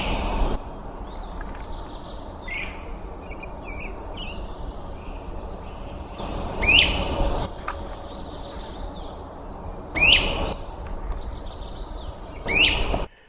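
Three loud, rising calls from a great crested flycatcher ring out at intervals over a busy morning chorus of distant birds and insects outdoors in Maine.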